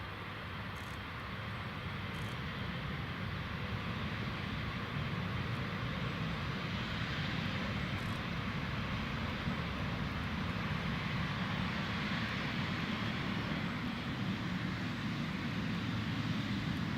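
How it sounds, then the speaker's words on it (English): An Emirates airliner's jet engines roar at Newcastle Airport as it vacates the end of the runway, a broad, steady rumble and hiss held at a constant level throughout, heard from a distance with no voices. "the best part about the Emirates is vacating at the end of the runway"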